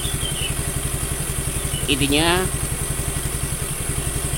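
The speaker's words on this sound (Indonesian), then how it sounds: "Ini untuk mesin sudah halus, tidak ada suara grok grok lagi." A Suzuki Nex II scooter engine idles after repair with an even, rapid putter that holds steady throughout, close to the microphone, while someone speaks briefly over it near the middle.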